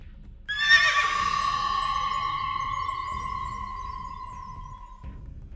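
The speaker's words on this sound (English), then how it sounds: "sound effect of my horse neighing" A single loud, drawn-out horse whinny from the game Star Stable rings out and slowly trails off over quiet background.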